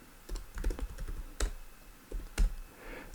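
Typing on a computer keyboard while programming, a quiet, close run of uneven key clicks with small bursts and pauses and no talking.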